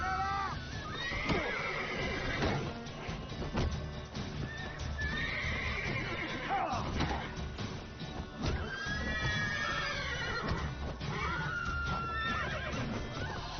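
Horses in The Witcher 3 video game neigh and whinny repeatedly over steady clip-clopping hooves, the loud calls recurring every few seconds.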